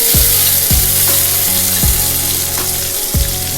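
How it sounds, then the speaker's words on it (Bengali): A masala of onion, tomato, ginger and garlic fries in a pan for dhaba-style chicken bharta, making a loud, steady sizzle broken by a few spaced scraping strokes of a spatula. "সমস্ত কিছু দিয়ে মশলাটাকে ভালো করে হালকাভাবে ভেজে নিতে হবে।"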